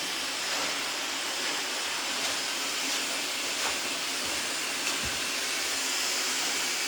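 A hair dryer blows in a continuous broadband whoosh while a bob haircut is wrap dried, steady and close, with faint brush or handling clicks underneath.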